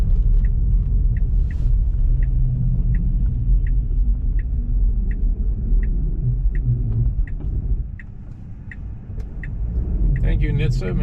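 Car driving on snowy, greasy roads, a steady low rumble of engine and tyres with a regular faint ticking like an indicator, close and continuous, easing briefly before picking up again.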